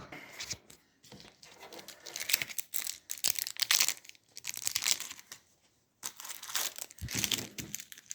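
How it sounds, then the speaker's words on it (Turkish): 2024 football trading card packs torn open and handled, with bursts of crinkling and tearing foil wrappers broken by short pauses, close and fairly loud. "bu kart açılımını yapacağız sizinle birlikte"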